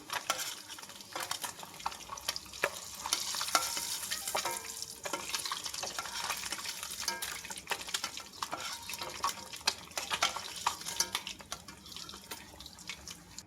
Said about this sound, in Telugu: హెవీగా వేపుకోకూడదండి ఇలా లైట్గా వేపుకోవాలి